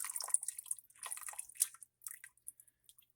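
Water drips and trickles from freshly cooked pasta held in a pasta scooper over the pot. The soft, irregular splashes and patters come close up, with no talking.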